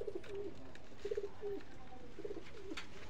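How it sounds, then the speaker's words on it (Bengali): A male Giribaj pigeon coos close by in a short run of soft, low, throaty calls, about five bursts in pairs over three seconds, with faint background hiss and no talking. "একটি গিরিবাজ পায়রা ধরে নিয়েছি।"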